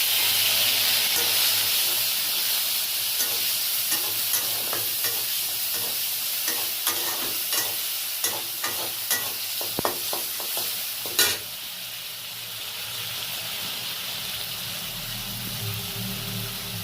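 Spiced chickpea dal with tomato and chillies sizzles in a pan while being stirred, a steady frying hiss with repeated scraping strokes of the spoon that stop partway, leaving the sizzle alone at close range.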